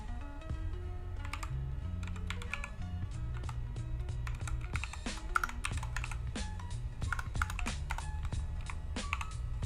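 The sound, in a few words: typing on a computer keyboard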